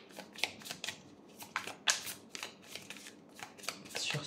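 Tarot cards shuffled for an astrology reading, a run of quick riffling bursts and soft slaps in uneven clusters, close and fairly crisp, with no talking over them.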